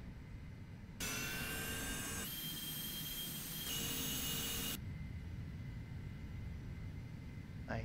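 A light aircraft engine on a flight from AK23 to Anchorage runs up to full throttle for the takeoff roll, a loud steady roar with a rising whine that holds for several seconds, then drops back to a lower, duller drone.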